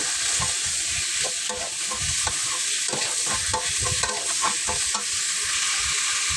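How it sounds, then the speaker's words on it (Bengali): Vegetables fry in oil with turmeric and salt in a pan, a constant loud sizzle with repeated scraping and stirring strokes throughout; no speech. "তারপর সবজিগুলোকে একটা প্যানে বসিয়ে দিয়ে হলুদ আর লবণ দিয়ে তেল দিয়ে ভেজে নেব।"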